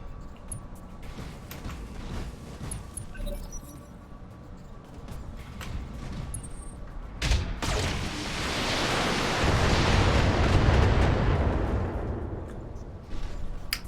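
A mech battle in Flashpoint, with weapons focus-firing: scattered sharp impacts give way to a loud, sustained roaring barrage that swells to a broad wash of noise and then fades slightly.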